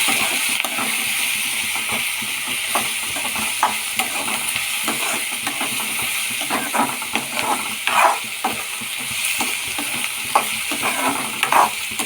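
An egg tempering frying in a pan with turmeric, a steady moderate sizzle broken by soft stirring scrapes at irregular intervals.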